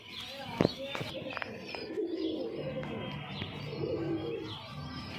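Pet pigeons in a backyard loft give repeated low coos and light chirps, near and moderately loud, while people chat over them with a sharp knock early on.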